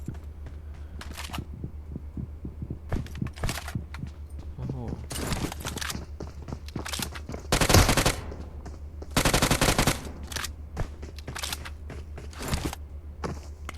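MK14 rifle fire in the PUBG Mobile video game: rapid bursts of gunshots, some long and dense, others short, broken by brief gaps, with someone talking throughout.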